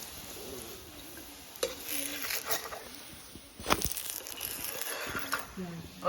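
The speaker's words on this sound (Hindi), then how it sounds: "इस पर हम थोड़ा सा घी लगा लेंगे" Ghee sizzles on a makki roti, a Kashmiri maize flatbread, on a hot griddle, a close crackling hiss with scraping and dabbing sounds, while a voice talks faintly in the background.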